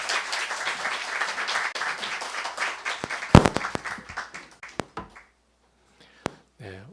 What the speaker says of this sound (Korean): 목사님 나오실 때 큰 박수로 환영해 주시길 감사하겠습니다